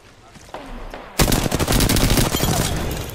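Close, loud automatic gunfire in Apex Legends erupts suddenly after a quieter moment and continues as a dense rattling burst, with a voice speaking briefly under it.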